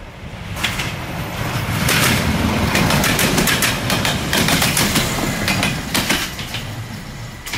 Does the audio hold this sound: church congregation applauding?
no